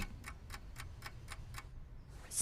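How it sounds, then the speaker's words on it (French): An alarm clock placed behind a pet basket ticks softly and evenly, about seven ticks in a steady rhythm over quiet room hum, then stops. "On met un réveil matin qui fait tic-tac derrière son panier."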